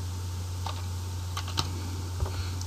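A few scattered keystrokes on a computer keyboard while entering data into an Excel UserForm, light close clicks spaced irregularly over a steady low electrical hum.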